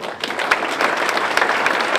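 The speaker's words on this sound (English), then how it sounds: "let's give his grandson a round of applause" Dense, steady audience applause for a grandson at a public lecture by a motivational speaker, broadband clapping filling the whole stretch with no talk over it.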